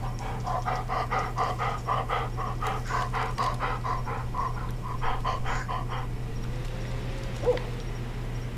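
The dog Bullet pants in Blair Witch, heard as quick, even, breathy pulses that sound close and loud for several seconds. The panting then fades against a steady low background drone, and no one talks.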